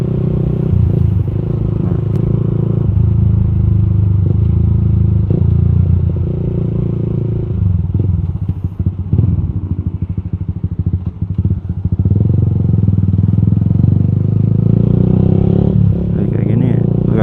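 A Honda Sonic 150R, a 150 cc motorcycle, rides along quiet Sunday streets in Jakarta, its engine droning steadily close up with wind rumble and brief revving shifts while a rider talks throughout.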